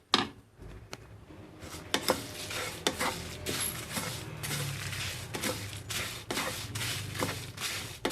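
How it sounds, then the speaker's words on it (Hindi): Whole coriander seeds and dried chillies dry-roast in a pan, with repeated scraping stirs and sharp clicks from a utensil over a soft, steady sizzle, close and fairly quiet. "धनिया और मिर्चों को थोड़ी देर भूनेंगे।"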